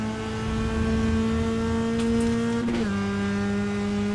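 A Spec MX-5 race car in the iRacing sim at Road America holds a loud, steady engine whine that climbs slightly, then drops in pitch at a sharp gear change and keeps droning.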